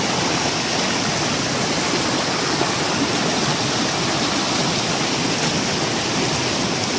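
Fast water rushing steadily over the waterfall at Devloli dam near Rasayani, a loud, continuous broadband roar filling the whole stretch with no voices.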